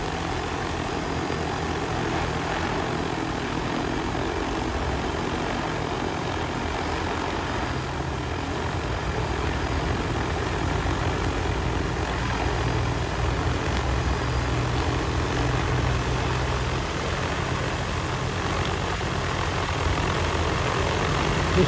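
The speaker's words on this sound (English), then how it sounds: "This drone is big enough it could give us all a ride over to Oahu." A large drone flies over coconut palms, its rotors making a continuous, even whirring drone that holds at a steady level throughout with no voices.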